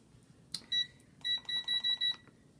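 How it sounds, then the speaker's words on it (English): Kitchen timer being set: a few quick electronic beeps, followed by a run of five regular, bright beeps in close succession, with no speech. "Let me set my timer. So as you can see, I'm going to set my timer here."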